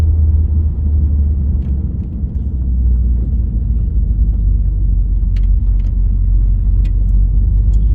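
A 1971 Chevrolet C20 truck engine idles after a cold start, a steady loud low rumble held close throughout with faint ticking on top.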